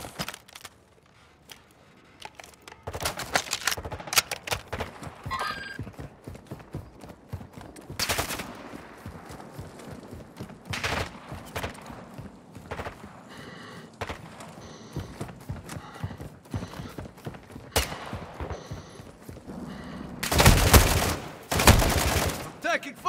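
Gunfire in the Call of Duty DMZ video game: bursts of rapid automatic shots and single cracks scattered throughout, some distant and some close, with louder heavy firing near the end and occasional voices.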